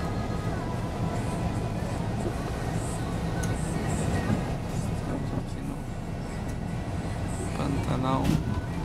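A stopped passenger train on Bolivia's 'death train' line between Santa Cruz and La Sierra begins shunting, giving a steady loud rumble of rail cars and machinery with faint clanks and squeals, while people talk over it.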